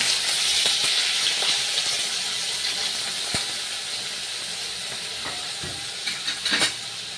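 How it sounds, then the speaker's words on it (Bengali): Potato pieces fry lightly in hot oil for chire pulao, a soft steady hiss and sizzle with a few faint clinks and stirring knocks, fairly quiet and close, no talk. "আমি হালকা করে আলুটাকে ছেড়ে দিলাম"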